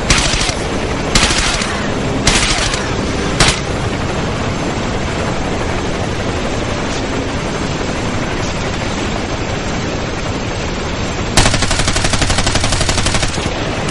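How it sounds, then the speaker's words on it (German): Sustained loud automatic gunfire in Ghost Recon Advanced Warfighter: sharp bursts at the start, then a dense continuous roar of rapid shots, with another sharp volley near the end. "So, ich will doch nur noch alle Schüsse abgeben"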